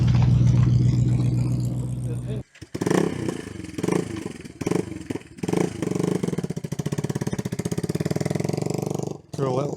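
A small custom bobber motorcycle, apparently a Yamaha 125, idles and then revs in rapid uneven bursts at a classic vehicle show, loud and close, with a short gap partway through.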